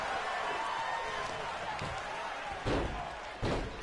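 Wrestler slammed onto the mat during a wrestling match, two sharp heavy thuds near the end against a murmuring arena background with a commentator's voice speaking over it.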